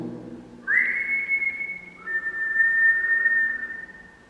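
A person whistles two long, steady notes, the first rising slightly, the second a bit lower, clear against a quiet room inside the former HMP Shrewsbury prison.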